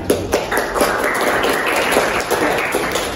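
A classroom group of students and their teacher clap for all the project groups during a lesson, a dense, steady patter of hand claps lasting a few seconds with no talk over it.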